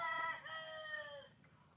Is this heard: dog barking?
no